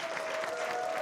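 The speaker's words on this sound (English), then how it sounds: "how about we give a round of applause to our amazing chefs today" A cooking show audience applauds the chefs with a steady, fairly quiet patter of many hands clapping, heard briefly in a room with a faint constant tone beneath.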